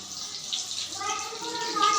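Mung dal kachori fry in hot oil with a soft, continuous hiss and sizzle that grows slightly louder toward the end, while a voice speaks faintly underneath.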